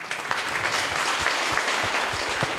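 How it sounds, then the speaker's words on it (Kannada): An audience in a public meeting hall claps loudly and continuously, a dense, close wash of hand claps with no pause from start to end. "ತಮ್ಮೆಲ್ಲರಿಗೂ ನೀವೇ ಜೋರಾಗಿ ಚಪ್ಪಾಳೆ ಹೊಡ್ಕೊರಿ"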